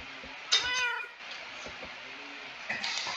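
A cat meowing in the Minecraft video game, one clear meow near the start followed by a fainter second call at the end, over a low background hum.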